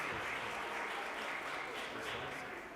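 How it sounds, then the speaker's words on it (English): An audience applauds young people in a steady, continuous wash of clapping at moderate distance, with murmuring voices mixed in underneath. "Y'all give a round of applause and encourage the young people"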